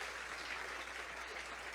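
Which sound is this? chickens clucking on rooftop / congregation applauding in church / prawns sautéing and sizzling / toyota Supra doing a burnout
congregation applauding in church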